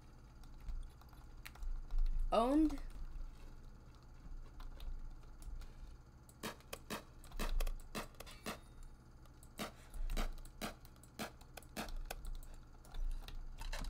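Computer keyboard keys clack in irregular bursts of sharp taps while Phantom Forces is being played, with a brief louder noise near the start and a single spoken word; the typing stays fairly close and moderately loud throughout.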